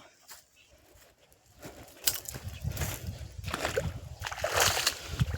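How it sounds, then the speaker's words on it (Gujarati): Irrigation water sloshes and splashes steadily across a mustard field, growing louder after a quiet start, with birds faintly in the background. "जो आ पाणी जाई रह्युं छे"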